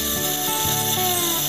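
A watchmaker's micro drilling machine running a 3 mm drill bit gives a steady, high-pitched motor whine with faint rubbing and grinding from the bit, continuous and close.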